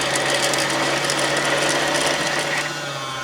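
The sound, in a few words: Baby Lock Zest sewing machine bobbin spinning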